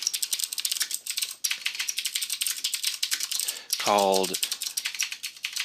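Rapid clicking keystrokes from someone typing code on a computer keyboard, close and brisk in bursts, with a short rising chirp partway through and a few spoken words.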